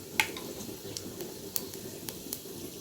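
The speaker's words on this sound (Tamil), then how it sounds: "இது நல்லா பொரியுது நல்லா பொரியட்டும்" Cumin and fenugreek seeds splutter in hot oil for a mango vathal kuzhambu, giving faint, scattered sharp pops over a low sizzle, with one slightly louder crackle near the start.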